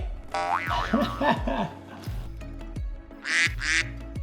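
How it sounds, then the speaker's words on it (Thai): A squeaky rubber toy duck in a large marble bathtub gives a few bouncy, boing-like squeaks and quacking chirps, close and moderately loud, with bright squeals near the end and no talk. "แล้วก็มีเจ้าเป็ดน้อยด้วย"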